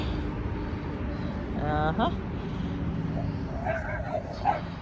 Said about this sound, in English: there is an aggressive dog in that window that's barking at him